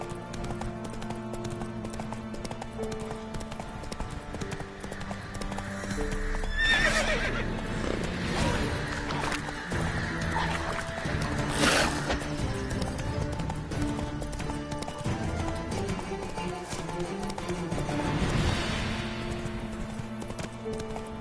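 Roach, the player's horse in The Witcher 3, clip-clops at a steady trot with hooves loud and close, breaking into two bright whinnying neighs partway through over a constant game music bed.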